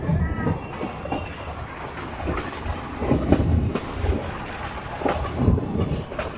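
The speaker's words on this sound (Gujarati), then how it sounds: "આ છે બિલખાનું રેલવે સ્ટેશન" A meter gauge passenger train rolls through Bilkha railway station in Gujarat, its wheels clattering in a steady rhythmic clickety-clack with rumbling carriages close by.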